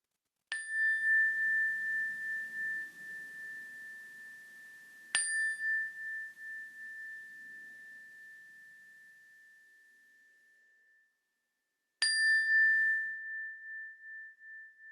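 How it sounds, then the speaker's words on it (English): A meditation bell is struck three times, each clear ringing tone swelling at the strike and slowly fading; the second strike decays into near silence before the third, with no talking. "I'm going to ring the bell, and when I do, I invite you to listen to the sound of the bell until you can't hear it any longer"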